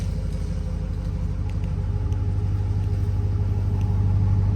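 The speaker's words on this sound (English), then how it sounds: "You can still hear a good amount of sound coming out of the tailpipes." A deep, steady exhaust rumble from a RAM 1500 Laramie GT pickup at idle with its valved exhaust cutout open, loud and close, with a throbbing low burble that slightly swells toward the end.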